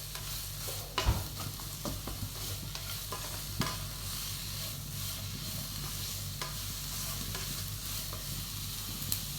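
Salted onions sauté in a pan for mutton curry, a steady dense sizzle running throughout while a utensil stirs and scrapes now and then, with a few sharper knocks and no voices.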